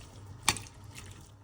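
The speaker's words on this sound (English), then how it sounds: "Add our water." Water is added to a pot of Persian celery stew (khoresh karafs) in a home kitchen: one short, close splash, then a faint trickle and quiet.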